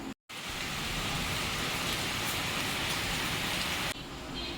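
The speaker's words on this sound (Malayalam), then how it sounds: "ഇവിടെ നല്ല മഴ പെയ്യാണ്" Heavy rain pours steadily in a dense, continuous roar, briefly cutting out at the start and easing slightly near the end.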